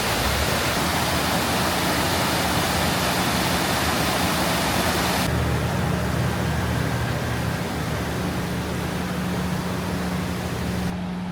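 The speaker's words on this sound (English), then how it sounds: "Look how intense the rapids are down here." River rapids rush below a railway bridge in the Smoky Mountains as a loud, steady roar of whitewater, dense and unbroken, with a low rumble running underneath throughout.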